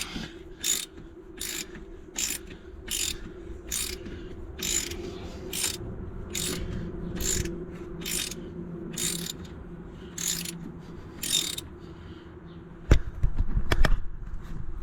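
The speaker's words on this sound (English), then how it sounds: "hopefully now we can ratchet it." A ratchet wrench works a castle nut on an Allis-Chalmers G tractor, giving about sixteen crisp, evenly spaced clicks at close range over a low engine-like hum, ending in a brief clatter of metal.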